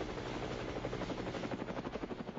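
A Pakistani army helicopter arrives, its rotor producing a rhythmic thumping that grows more distinct and pulsing toward the end, with no voices.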